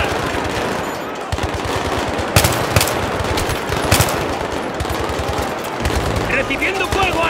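Sustained automatic gunfire in the Battlefield 3 game's Operation Swordbreaker mission, dense rattling bursts with sharper individual cracks, loud and close throughout, with occasional shouted voices mixed in.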